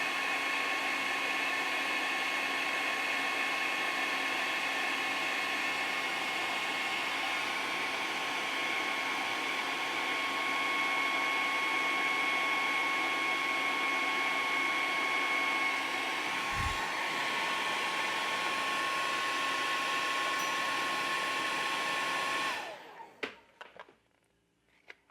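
A heat gun warms a part of a 1/6-scale vinyl figure kit while it sits clamped, giving a steady, loud blowing whine that holds for over twenty seconds and then cuts off abruptly.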